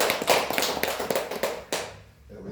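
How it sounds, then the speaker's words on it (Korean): A Korean church congregation gives the pastor a brief round of applause, a dense crackle of many hands clapping at once that carries on and then fades out to near silence. "다 같이 우리 박 목사님 말씀에 감사 박수 한번"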